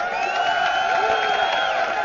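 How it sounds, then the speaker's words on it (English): Arena crowd cheering for team EPIK at an MLG Providence League of Legends final, a steady sustained roar of voices with scattered whoops, loud and continuous throughout. "let me hear a cheer for EPIK in the crowd and at home"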